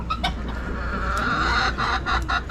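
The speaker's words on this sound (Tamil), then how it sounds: "ஸோ இப்போ கோழி அதில் தடுமாறி இறங்கி பாருங்க." A hen clucks repeatedly in short bursts as she stumbles down from a nest box amid a busy village farmyard, with a bantam rooster and other fowl sounds and steady background noise close by.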